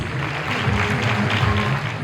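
Audience applause at a kindergarten graduation ceremony, a steady wash of many hands clapping at moderate volume, continuous and even for its whole length.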